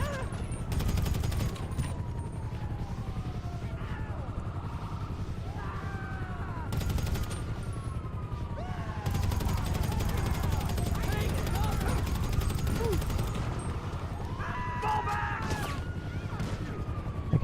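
Rapid automatic gunfire in GTA V rattling in long dense bursts with brief gaps, loud and near, over a steady low rumble and scattered in-game sound effects.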